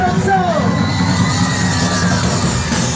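A large crowd cheers, yells and whoops at the Ostrowite 2018 county harvest festival, a loud, steady roar of many voices close by for the whole stretch, with individual shouts poking through.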